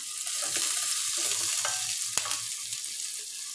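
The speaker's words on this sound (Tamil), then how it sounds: "இப்போ இதோட இந்த ஆனியனை போட்டுக்கலாம். இந்த கருவேப்பிலையை போட்டுக்கலாம்." Onions and curry leaves fry in a pan over a low flame, giving a soft, steady sizzle with a few faint scraping clicks from stirring. It is close and moderately quiet.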